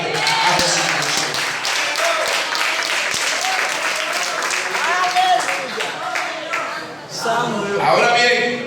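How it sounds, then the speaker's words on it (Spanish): A church congregation claps in praise of Jesus Christ, dense sustained applause filling the room, loud and near, with voices calling out over it toward the end. "Dando un aplauso grande a Jesucristo"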